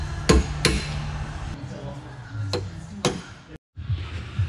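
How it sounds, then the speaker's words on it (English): Several sharp metallic hammer taps driving a small punch against a ring while turboing a 105 Series Land Cruiser, irregularly spaced blows, close and ringing, with a brief pause between strikes. "So I'm just going to use a small punch and just try and catch one edge of this ring."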